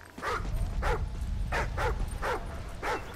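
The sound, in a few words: dog whimpering in video game Call of Duty Ghosts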